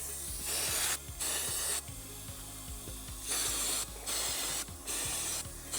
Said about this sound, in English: let's get some carb cleaner off that table, Max. So we'll clean the outside of the carb first.